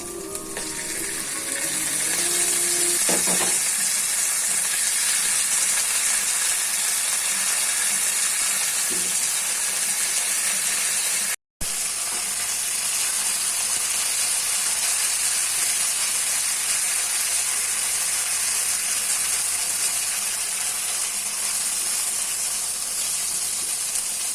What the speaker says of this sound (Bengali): কিছুক্ষণ ভাজার পর তেলের ভিতর আদা রসুন বাটা ঢেলে দিব এবং নাড়তে থাকবো